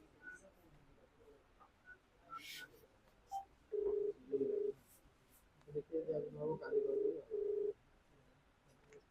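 An outgoing call from a phone to a Vivo Y31 user rings back in a few short, evenly spaced beeps, clear but modest in level, with faint background talk.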